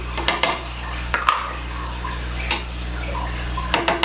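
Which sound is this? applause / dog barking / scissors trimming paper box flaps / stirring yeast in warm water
stirring yeast in warm water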